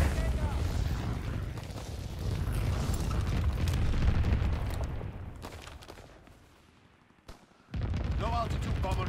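Flak guns and bombing in Call of Duty: WWII, dense rumbling bursts of anti-aircraft fire and booming explosions that swell, fade into a brief near-silence, then return sharply, with game voice chatter mixed in.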